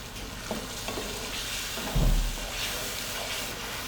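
Chicken frying with yogurt in a pot for dum biryani, a steady sizzle with spoon stirring throughout and a brief louder thump of the pot near the middle.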